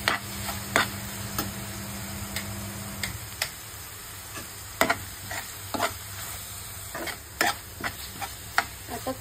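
Onion, tomato, garlic, ginger and curry leaves sizzle in oil in a pan while a spoon stirs them, giving a steady frying hiss broken by sharp, irregular scrapes and clicks of the spoon against the pan, close and without talk.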